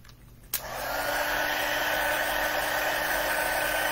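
A heat embossing tool switches on with a click and then blows hot air in a steady, loud, close whoosh that holds without a break through to the end.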